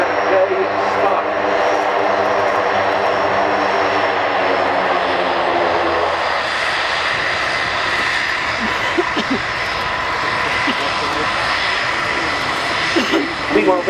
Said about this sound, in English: completing their sequence on the Alenia C-27J Spark